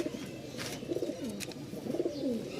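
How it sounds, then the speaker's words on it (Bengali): Giribaz pigeons cooing nearby, a run of low, throaty rolling coos that repeat through the moment, clear and moderately loud, with no talking. "ডিম বাচ্চা খাওয়ার জন্য বেস্ট কবুতর, সাথে উড়াইতেও পারবেন।"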